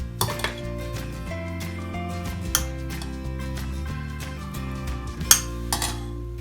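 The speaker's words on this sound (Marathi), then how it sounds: "मी आता ती या सर्विंग प्लेट मध्ये बोल मध्ये काढून घेते." Kulith pithla, a horse gram flour curry, is served from a pot into a serving bowl, with repeated metallic clinks and scrapes of a spoon against cookware, moderately close.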